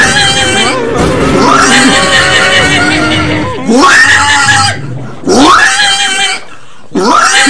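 A voice imitates a pig being slaughtered, with loud, harsh squealing shrieks in long bursts, several repeated with short gaps between them, up close.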